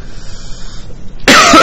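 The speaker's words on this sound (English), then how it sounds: "I'm still coughing." A single loud, harsh cough bursts out close up after a brief quiet stretch, cutting through a faint background hum.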